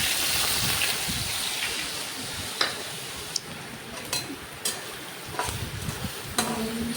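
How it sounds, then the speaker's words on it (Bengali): Whole cumin, bay leaf, onion and garlic frying in oil, a soft steady sizzle and hiss with occasional light clicks and stirring taps, close and fairly quiet. "এরপর ওই তেলে গোটা জিরে ফোড়ন দিন। তারপর তেজপাতা এবং বাদবাকি পেঁয়াজ, রসুন এসব দিয়ে ভালোভাবে কষান।"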